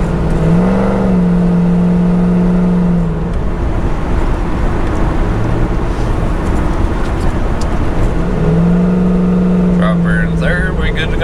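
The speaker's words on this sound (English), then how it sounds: "if I give it enough gas, it'll kick back into third" A Corvette with a 4L60E automatic transmission accelerates on the road, its engine droning and rising as the gearbox kicks back into third. Someone talks over the engine and road noise throughout.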